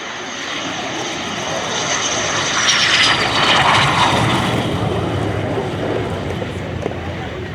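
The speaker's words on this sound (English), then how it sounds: "Fighter Squadron 41 of the Finnish Air Force at Tikkakoski, representing one of NATO's 2 newest member states, Finland and Sweden, in the flypast" Fighter jets of the Finnish Air Force's Fighter Squadron 41 in a flypast at RIAT, a loud continuous roar that swells as they pass overhead and then fades slightly, with a faint voice beneath.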